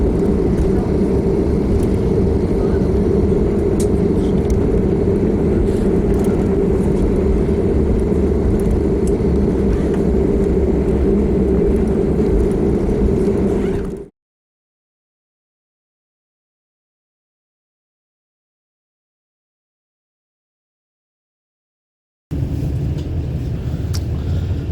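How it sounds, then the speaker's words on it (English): Steady roaring rumble of aircraft and busy activity at Heathrow Airport in London, loud and continuous for about fourteen seconds, then cut to silence before the roar returns near the end. "Heathrow Airport, an absolute hive of activity."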